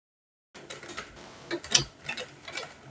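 Sewing machine stitching the front pocket of a pair of trousers, a close run of quick mechanical clicks and ticks in uneven bursts, loudest in short spurts, alone without talk.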